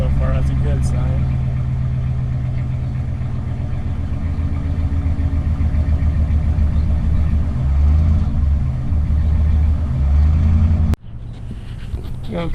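A car engine idles and rumbles steadily up close while being checked for misfires, running evenly before a sudden drop near the end, with a voice talking at times.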